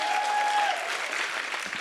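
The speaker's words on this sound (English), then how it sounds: "So I think we need to give Audrey a big round of applause." Audience at a 90-second pitch event giving a presenter a round of applause, dense steady clapping filling the room, fairly loud and continuous.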